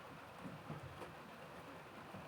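Steady rain falls outside a cabin at an A-frame cabin site, a faint, even hiss of dense drops with no talk over it.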